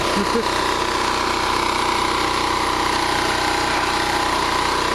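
A freshly repaired generator drones at a steady idle, loud and even throughout with no rise or fall in speed, its engine hum continuous for the few seconds heard.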